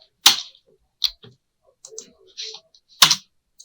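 A handful of separate, crisp keystrokes on a computer keyboard while entering code, loud and close with short gaps of silence, the first and last taps sharpest.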